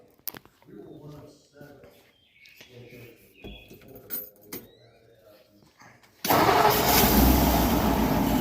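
A 1957 Ford Thunderbird, off the road for 35 years and with a leaking carburetor, cranks and fires after a stretch of talking. Its engine then runs loud and steady nearby.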